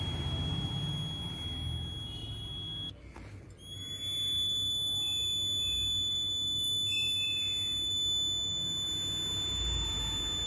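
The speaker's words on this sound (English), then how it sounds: "So this is the sound of the buzzer." A simple water level alarm's buzzer sounds a steady high-pitched electronic tone, cutting out briefly and then resuming, with no talk over it.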